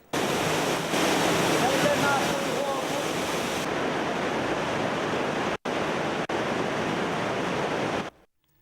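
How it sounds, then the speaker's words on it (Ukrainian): Loud, steady rush of fast-flowing wastewater echoing inside a sewer tunnel, continuous and broadband, cutting briefly twice before ending abruptly. "Всередині каналізаційний сток навіть дуже схожий на річку, швидка течія, пороги та водоспади"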